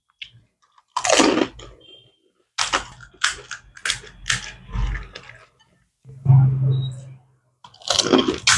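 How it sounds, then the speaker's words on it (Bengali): Crunchy bites of fuchka during an eating challenge, several sharp crisp crunches in bursts with pauses between, close and fairly loud, with no talking. "পিছনে কিন্তু ও খাচ্ছে"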